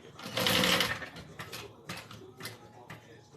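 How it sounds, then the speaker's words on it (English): A sewing machine stitches a folded wallet closed in short close bursts, a rapid mechanical rattle that starts and stops several times. "now we're going to fold it in half again and sew that closed"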